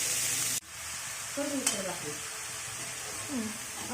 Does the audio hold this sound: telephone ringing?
no